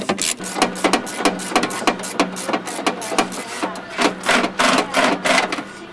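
A ratchet wrench loosening bolts on a Jeep Wrangler fender, giving close, rapid, repetitive clicking bursts in a steady rhythm with brief pauses between runs.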